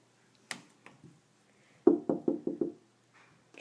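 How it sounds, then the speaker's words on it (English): Knocks on a door, fairly quiet: a few isolated raps, then a quick run of five sharp knocks, each standing alone in an otherwise silent room. "Knock, knock."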